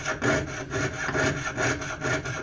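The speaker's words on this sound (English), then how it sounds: "we're just using this jeweler's saw, and I am using a heavier saw blade" A jeweler's saw fitted with a heavier blade cuts through metal in steady back-and-forth strokes, a rasping rhythm of about five passes in two and a half seconds, close and fairly quiet with no talking.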